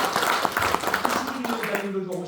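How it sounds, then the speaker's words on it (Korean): A seminar audience at a Korean lecture hall applauds with crisp, rapid claps that gradually thin out as a voice begins speaking over them. "여러분 박수 한번 쳐드릴까요?"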